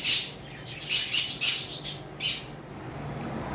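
Fischer's and masked lovebirds squawk in a bird shop: a cluster of sharp, shrill squawks, close and loud, then a lone call after a pause, over a low background hum.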